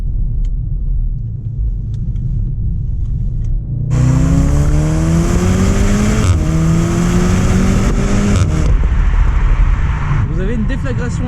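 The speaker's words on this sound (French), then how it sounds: "Déflagration à l'arrière chaque fois que vous passez un rapport" A 2019 VW Golf R, with a 300-horsepower engine, accelerates hard, its exhaust note climbing steeply and dropping back at each gear change, with brief exhaust pops at the shifts and a constant deep rumble underneath.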